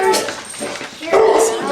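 A new puppy whimpers and yips in a few short bursts close by, mixed with people talking around it.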